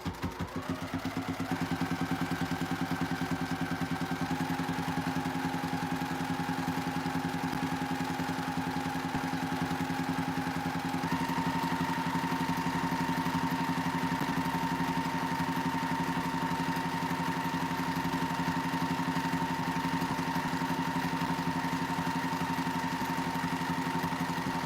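A sewing machine hums continuously and steadily while stitching a quilt-weight cotton strap, its motor tone shifting slightly in pitch partway through, with no talk.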